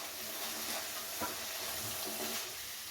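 Cabbage stir-frying in oil in a pan for fried rice, giving a steady low sizzle and hiss with a few soft scrapes of stirring, quiet and continuous.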